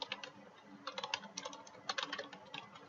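Keystrokes on a computer keyboard, quick irregular clicks in short bursts with brief pauses, close and fairly quiet, no voices.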